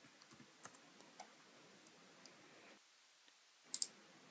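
Numbers are tapped out on a computer keyboard, a handful of faint, irregular key clicks over low room hiss, with a brief sharper double click near the end.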